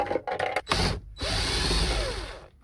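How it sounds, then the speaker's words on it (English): A power drill whirs in bursts while undoing screws from a car's rusty interior, a few short stuttering pulses followed by a long steady run, close and loud, then stopping. "I'm just undoing screws at the moment"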